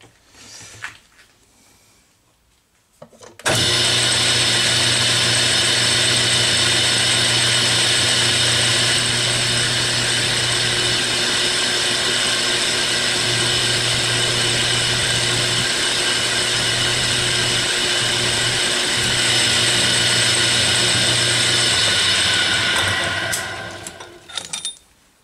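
A metal lathe turns down an expanding mandrel in a workshop, a steady loud machine whine with a strong hum that runs continuously for about twenty seconds after starting up, then winds down at the end.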